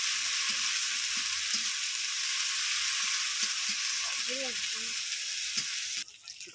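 Ginger and garlic paste frying with fish in a hot pan, a loud steady sizzle with scattered stirring scrapes, cut off abruptly near the end; no talk.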